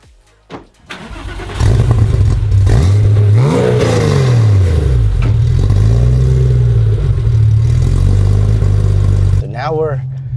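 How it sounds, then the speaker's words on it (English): A one-off Porsche 964 RWB in factory Violet Blue Metallic accelerates on a drive, its loud engine rising and falling through sweeping revs for several seconds, heard from close by before dropping away at the end. "Now we're taking the RWB for a spin."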